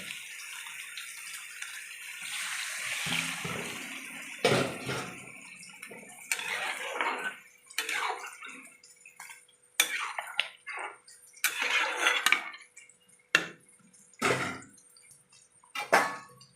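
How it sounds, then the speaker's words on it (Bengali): Water is poured into a pan of spiced pointed gourd and potatoes in a prawn curry, arriving in several uneven splashing bursts with brief pauses and loud gushes near the end. "এবার আমি জল দিয়ে দেবো।"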